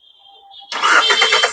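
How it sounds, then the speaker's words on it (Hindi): A Hyundai Xcent car engine turns over briefly and fires up, settling into a loud, steady running note close by with no talk. "दोस्तों इंजन स्टार्ट हो गया,"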